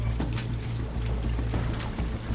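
Seawater gushes steadily into a leaking boat hull through an opened floorboard, a loud, continuous rushing pour with low engine-like rumble beneath.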